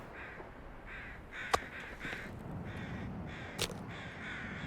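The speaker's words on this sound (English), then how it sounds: "I hear birds nearby." Crows caw repeatedly at close range in the bleak winter survival game The Long Dark, a series of harsh calls over faint ambient wind, punctuated by two sharp clicks.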